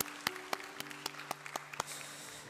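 An audience at a church gathering applauding for missionaries, a short burst of scattered, fairly close claps in an uneven rhythm that fades into a softer wash of clapping.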